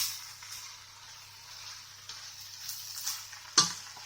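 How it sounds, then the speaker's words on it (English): Pumpkin leaves, shoots and flowers stir-fry over high heat, a soft continuous sizzle with faint scraping stirs and one sharper utensil knock near the end. "So I just gonna stir them all together until they shrink down."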